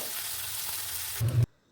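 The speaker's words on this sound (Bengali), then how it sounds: "এবারে দিয়ে দিচ্ছি মেখে রাখা চিংড়ি মাছগুলো, যেটাকে ভালো করে কিন্তু আমি ভেজে নেব।" Marinated shrimp fry in a hot pan for a Bengali dal with prawns, giving a steady, close sizzling hiss that swells briefly near the end and then cuts off abruptly.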